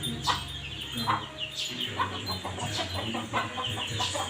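Hens and a rooster of a Thai gamefowl breeding flock cluck repeatedly in a farmyard, short calls rising and falling at close range over a steady low background, with a dog faintly barking.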